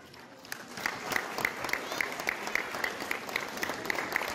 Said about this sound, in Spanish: Por los alumnos que egresan de esta escuela primaria, a quienes les pedimos un fuerte y caluroso aplauso